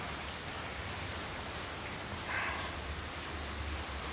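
Heavy monsoon rain pours down in a house parking area in Pune, a steady dense hiss that continues without pause, with a brief swell midway.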